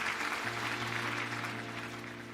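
A church congregation at a Sunday evening worship service claps steadily in a large hall, a dense even patter over a sustained organ-like drone that fades slightly toward the end.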